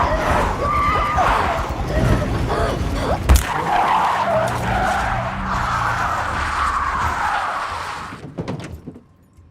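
A car in the horror film Hereditary swerves and skids, tires squealing in a long loud screech over engine noise before it fades to a brief thud.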